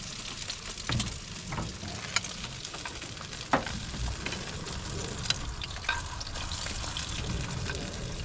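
Food frying in leftover hot oil in a pan, a steady close crackling sizzle with occasional sharper pops and spits throughout, no talking.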